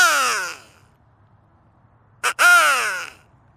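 A handheld crow call blown to imitate crow caws gives two loud, raspy, descending caws, close by, separated by a pause with a short breathy puff before the second.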